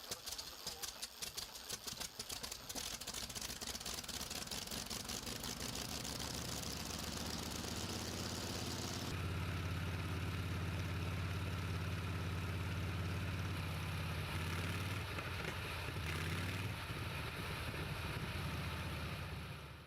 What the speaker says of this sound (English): Continental R670, a 1940s W679A radial, delivers 240 horsepower with 7 cylinders